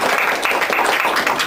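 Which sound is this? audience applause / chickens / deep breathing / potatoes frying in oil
audience applause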